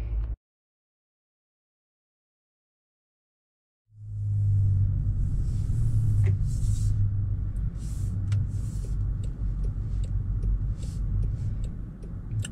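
A diesel Land Rover Defender 110 on the road: after about four seconds of silence, a steady, fairly loud low engine and road rumble starts from inside the cabin and carries on to the end, with faint higher rattles.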